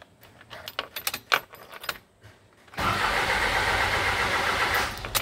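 Isuzu 4HJ1 common rail diesel cranking but failing to start, preceded by keys jangling at the ignition, then a loud steady starter-motor churning that continues for several seconds without catching.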